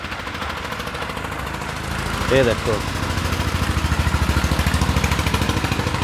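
Engine of a 2013 model 575 tractor at a Muzaffarnagar tractor market, running with a steady low rumble and chugging pulse throughout, while someone talks over it.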